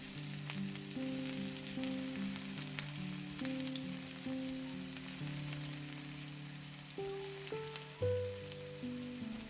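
Chopped onion fries in oil in a heated pan, a continuous crackle and hiss under quiet background music with shifting tones.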